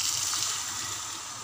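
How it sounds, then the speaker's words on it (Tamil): Water is poured into a Chettinad chicken gravy in the pan, a loud, close rushing splash that fades slightly over a second and a half. "தண்ணி சேர்த்துக்கலாம்"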